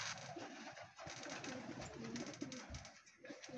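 A racing pigeon coos repeatedly at a pigeon race derby in Sinait, Ilocos, with soft throaty calls over a steady, busy outdoor background.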